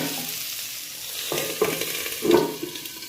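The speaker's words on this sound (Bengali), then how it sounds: "শিমগুলিও হালকা ফ্রাই হয়ে গেছে।" Whole flat beans with trimmed ends fry in a pan for vola mach, a soft steady sizzle broken by scraping stirs and two louder clatters of the spoon, close by and with no voices.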